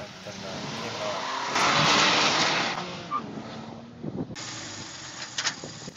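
A Porsche Cayman R or Boxster Spyder on a race track gives a loud, hissing tire scrub that swells and fades through a low-gear corner, with engine rumble underneath and a few sharp knocks.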